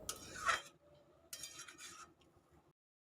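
A spoon scrapes and clinks against a pot while drumstick and potato curry is stirred with a little water, two short bursts of stirring with a quiet pause between, close and fairly soft.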